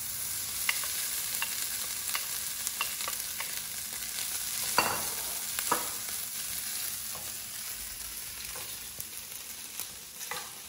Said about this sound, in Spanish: Y le incorporamos el tocino.